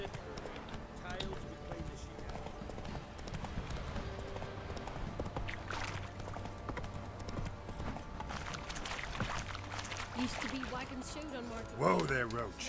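Roach the horse's hooves clip-clop steadily through Witcher 3, a continuous even trotting rhythm lasting the whole stretch, with voices talking over it.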